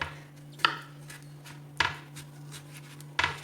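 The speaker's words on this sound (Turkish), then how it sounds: "Küçük küçük doğrayıp tuzlu su yaptığımız leğenimize atıyoruz." A knife chops eggplant into small pieces on a cutting board, giving three crisp, close knocks spaced about a second apart over a low background hum.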